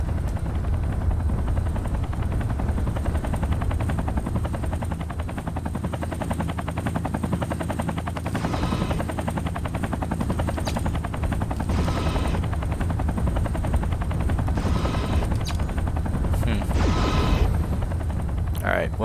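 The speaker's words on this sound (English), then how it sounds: "Sounds like choppers." Helicopters approaching in the video game Mechwarrior 3, a continuous loud rotor thrum with chopping pulses, with bursts of gunfire-like crackle and mechanical noise layered on top.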